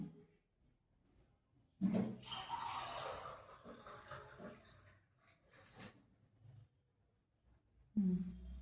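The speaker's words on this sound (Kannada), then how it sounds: "ಈ ಗ್ಲಾಸಲ್ಲಿ ಒಂದು ಗ್ಲಾಸ್ ನೀರು ಹಾಕ್ತಿದ್ದೀನಿ" A glass of water tipped into a cooking pot of field-bean curry, a couple of splashy pours with a brief trickle between them, close by and fairly soft, with no voices.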